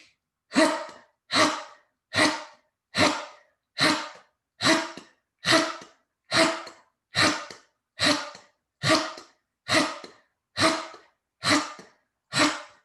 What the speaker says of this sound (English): And we'll do Kapalabhati, abdominal contractions, inhaling.